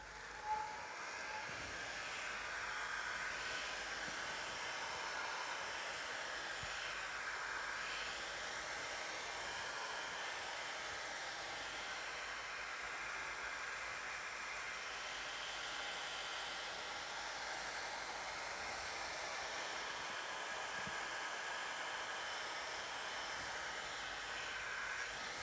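A hot air blower runs with a continuous, even broadband whoosh while heating and stretching the vinyl on a Mitsubishi 3000GT/GTO door card into its inner pocket. There is no talk.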